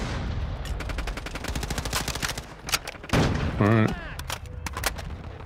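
Gunfire in Call of Duty Modern Warfare 2 while leveling a Lachmann Sub MP5, rapid automatic bursts with sharp repeated cracks and a louder blast near the middle, a brief spoken word over it.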